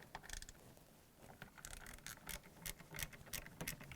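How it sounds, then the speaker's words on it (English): Socket wrench ratcheting out small 8mm screws on an LG washer coupling assembly, a quiet run of rapid clicks and scrapes close by, with no voices. "I'm going to use the socket wrench with the 8mm head."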